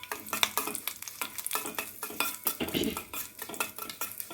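A peanut gojju tempering with curry leaves crackles in hot oil while a spoon scrapes and clatters against the pan in quick, busy strokes, close and continuous.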